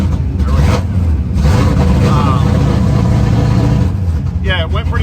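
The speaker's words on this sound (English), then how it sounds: "I got to pull the car forward" A drag racing car's engine rumbles loudly and steadily as it creeps forward at a qualifying event, with a brief higher whine near the end.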